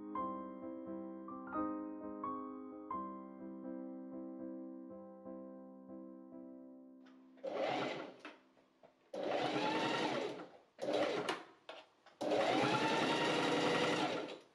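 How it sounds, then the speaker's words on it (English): A sewing machine stitches through hoodie fabric in several loud, close bursts of rapid mechanical whirring separated by short pauses, after a stretch of quiet sustained tones at the start. "I machine top stitch along the top and bottom."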